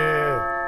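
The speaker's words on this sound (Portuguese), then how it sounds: "quando você ouvir essa campainha aqui" Studio doorbell on a sports talk show, a single two-tone ding-dong chime ringing out clearly and decaying quickly.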